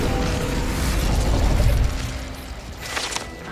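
A fire spell cast in Hogwarts Legacy, a loud burst and mechanical crackling whoosh peaking midway, then fading with a brief flare near the end; no talking.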